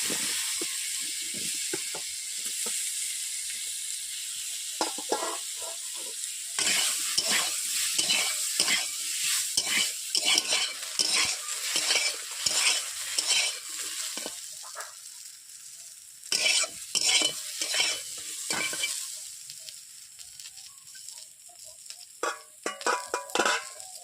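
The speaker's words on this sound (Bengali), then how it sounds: "এইভাবে এক এক করে আমি সবগুলো সবজিগুলোকে ভেজে নেব।" Chunks of potato and plantain fry in oil in a wok for a Bengali shukto, with a continuous sizzle and hiss broken by repeated scraping, clattering stirs that come in bursts and pauses.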